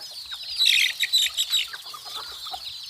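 A bantam chicken called Petch Ngam clucking close up, a quick run of sharp clucks and chirps that rise and then taper off, no speech.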